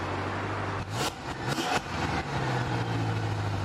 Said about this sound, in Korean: M5의 배기입니다.